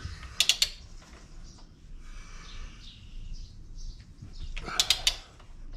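Torque wrench tightening ball joint bolts on a Subaru Outback, two short bursts of quick ratcheting clicks at the start and end, close, with faint birdsong in the background.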